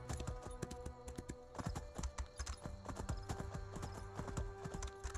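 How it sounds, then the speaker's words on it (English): Galloping horse hooves in the Elder Scrolls Online video game, a fast rhythmic clip-clop of repeated hoof strikes over a steady game music and ambience bed, with an occasional faint whinny. "Lucky I did bring the fast horse."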